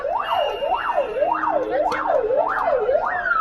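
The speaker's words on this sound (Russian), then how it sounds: "Ну вот полицейские машины" Police car sirens wail loud and close at a street protest in Moscow near the Bolshoi Theatre, their rising and falling tone repeating about every half second with traffic noise beneath.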